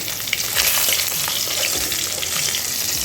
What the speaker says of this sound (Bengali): বাকি যে দুটো মুড়ো আছে ওই দুটো আমরা ভেজে নেব